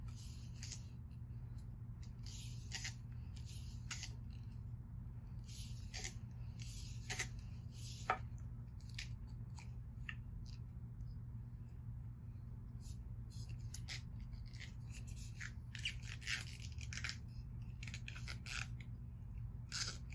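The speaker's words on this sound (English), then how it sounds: "I'm just going to tape the top like this" Tape being handled and applied to the top of a tennis racket overgrip, heard as faint close crinkles, snips and rubbing scratches scattered irregularly over a low steady hum.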